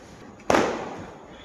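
A single Diwali firecracker lit with an incense stick bursts with a sharp, loud bang, then its crackle and echo fade slowly over about a second against quiet surroundings.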